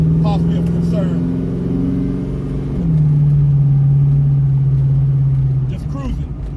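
A 600hp Chevelle muscle car cruises on the freeway, its engine giving a steady low drone that shifts pitch a few times as it holds speed, with loud road and cabin noise throughout.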